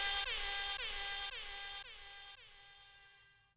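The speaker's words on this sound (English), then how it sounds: "I don't know if my air horn went off" An air horn sounds alone in a series of loud, brassy blasts, five or so in quick succession, each slightly weaker than the last, before the final blast fades out.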